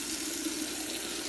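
Hot water runs steadily from a hose, a constant close rushing and splashing hiss at low volume with no break.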